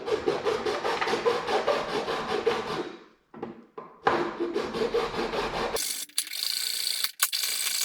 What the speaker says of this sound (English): We've got to shave some of this plastic off of here so that the new duct can go over this opening